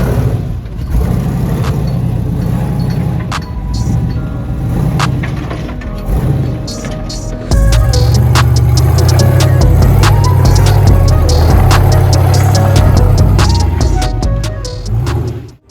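A 2007 Jeep JK with an LS V8 climbs a rock obstacle on a Moab trail, its engine surging and throbbing close by, then revving harder and louder as it pushes up the rock.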